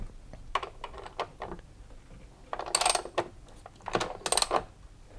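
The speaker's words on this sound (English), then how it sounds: "if I just shake the weight, you can hear it makes quite a noisy sound as well" A loose counterweight on a washing machine drum rattles as it is shaken by hand, giving several irregular bursts of close metallic clattering and knocking separated by short pauses, with no voices.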